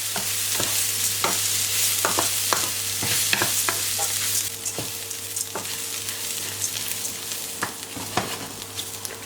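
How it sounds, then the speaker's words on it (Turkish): Rice sizzles and crackles as it toasts in a hot pan for mushroom risotto, with repeated scraping and stirring strokes, close up and no talking. "Bir dakika kadar pirinci kavuracağım."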